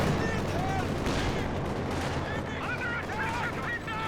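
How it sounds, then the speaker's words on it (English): Zeroing artillery shells rain down in the strategy game Company of Heroes 2, a steady stretch of rumbling impacts and gunfire at moderate distance, with a voice talking over it. "we got some zeroing artillery coming down"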